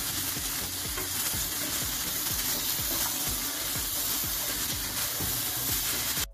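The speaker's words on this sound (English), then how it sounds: "Now add some water to cook the channa and potato." Water poured into a hot pot of seasoned channa and potatoes in curry paste, giving a loud continuous sizzle and bubbling hiss with rhythmic low pulses, close up and without speech.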